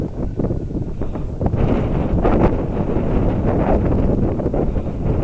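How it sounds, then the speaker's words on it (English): Strong wind blowing outdoors, buffeting the microphone with a loud, continuous rumbling roar and gusty rustling throughout. "Trying to stay out of the wind?"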